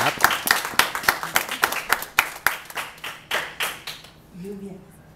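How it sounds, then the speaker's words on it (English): Scattered audience clapping follows a poem at a poetry reading, a string of distinct hand claps at an uneven pace that trails off within a few seconds before a voice starts speaking. "Good clap."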